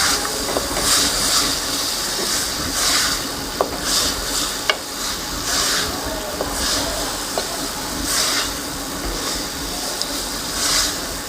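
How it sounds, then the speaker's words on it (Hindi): Boiled lentils going into minced meat cooking in a pot, with a steady sizzle and hiss running throughout and a few small clicks of stirring or utensil taps standing out. "अब हम डालेंगे इसमें दाल।"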